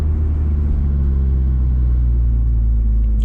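A tuned 2015 Subaru WRX with the FA20DIT turbo engine cruises steadily through a neighborhood, its loud, deep engine rumble and road drone heard from inside the cabin without letup.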